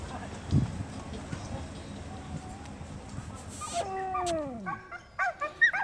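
Sled dogs yelp and whine in a few short, rising cries near the end, after a stretch of rumbling outdoor background with a voice speaking, in Oregon, USA.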